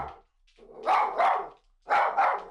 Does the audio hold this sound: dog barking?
yes